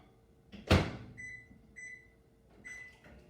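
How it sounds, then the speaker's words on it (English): Microwave oven melting four tablespoons of butter: a sharp door clunk, then repeated tonal beeps at a moderate distance in a quiet kitchen. "I'm going to take 4 tablespoons of butter and just melt it in the microwave"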